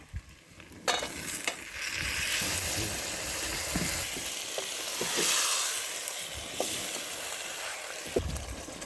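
Potatoes and tomato frying in a cauldron over an outdoor fire for bograch, a continuous crackling sizzle with scattered stirring knocks and scrapes.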